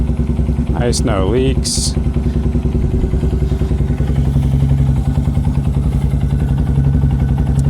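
A 2025 Honda Grom SP motorcycle fitted with a ZoOM Loop exhaust starts up with a brief rising whine and then settles into a steady, close idle that runs throughout, with someone talking briefly over it.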